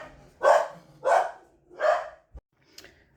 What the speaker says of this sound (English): Oh my gosh, it's my dog.